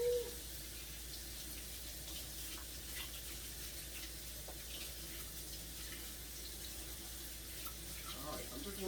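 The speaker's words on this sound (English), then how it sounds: "I'm just washing this stuff off of my hands." Tap water runs steadily as hands are washed under it, a soft continuous hiss at low level, faint and even throughout.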